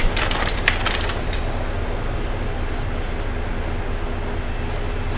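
Subway train running, a loud steady rumble of wheels on rails, with a brief burst of metallic squealing and clatter at the start, then a continuous roar and a faint whine throughout.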